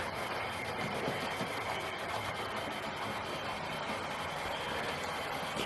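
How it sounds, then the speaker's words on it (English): A Hornby model Fowler 4F 0-6-0 locomotive in Somerset and Dorset livery runs around its track with a steady, even mechanical whirr and a faint rhythmic rattle, continuous and close, with no talking. "you've still got a nice little attractive locomotive going round"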